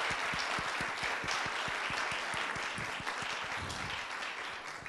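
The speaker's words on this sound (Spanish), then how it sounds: "Démosle un aplauso de bienvenida a nuestro libro." Sustained audience applause, steady and dense, greeting a book at a coffee-afternoon event at a school of government, with crowd clapping filling the whole stretch at even loudness.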